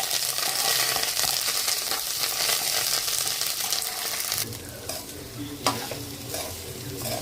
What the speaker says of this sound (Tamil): அதுக்கு கருவேப்பிலை சாதத்துக்கு தாளிப்பு கொடுத்தாச்சு.